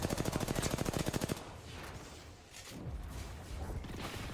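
Rapid automatic gunfire from an assault weapon in the Apex Legends battle royale game, a loud burst of evenly spaced shots for over a second, followed by noisy in-game ambience and scattered impacts.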